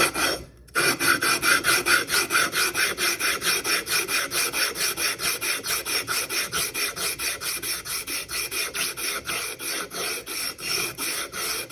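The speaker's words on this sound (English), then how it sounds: "you can feel it go nice and smooth on the sandpaper" A part is sanded flat on sandpaper laid over a tile, a close rasping scrape repeating in a steady back-and-forth rhythm of even strokes after a brief pause at the start.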